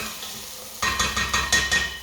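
Rhythmic scraping and clattering of a spoon stirring vegetables for carrot and coriander soup in a pot, with a soft sizzle underneath, about five strokes in quick succession.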